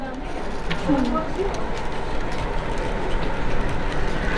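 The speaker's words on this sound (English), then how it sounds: "Brainmere Harbour is an N-gauge layout which models the Scottish railways in the Firth of Clyde during the early 1990s." An N-gauge model train runs on a layout of Scottish railways at an electric train show, a soft rolling rumble with light clicking under steady hall chatter.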